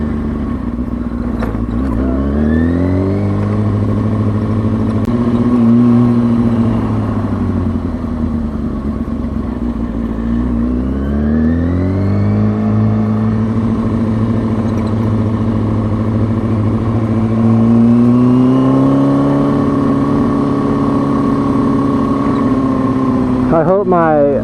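A car engine revs hard through a series of upshifts and downshifts, its loud, close drone climbing in pitch, dropping at each gear change, then climbing again several times over a steady rumble.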